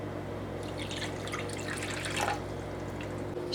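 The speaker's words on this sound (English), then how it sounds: "I'm gonna pour the 1 3/4 cup sugar and then I'm gonna pour the 1 cup water" One cup of water is poured onto sugar in a kitchen pan for strawberry lemonade, a soft continuous trickle and splash over a steady background hum, with the flow rising briefly near the end.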